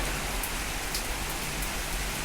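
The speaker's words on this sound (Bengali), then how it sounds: "দেখতে পারতেছেন বৃষ্টি ফোটাগুলো কতটা জোরে জোরে করতেছে" Heavy rain pours onto a rooftop in Dhaka, a dense, unbroken roar of drops that stays loud and constant throughout, with no voices.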